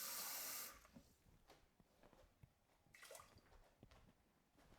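Water poured into a pot of rice and coconut cream: a loud splashing gush at first, then a gentler trickle with small clinks and drips.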